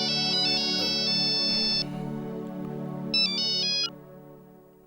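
An incoming-call phone ringtone plays in two bursts of bright chiming tones over a steady sustained musical backing, moderately loud and with no voices.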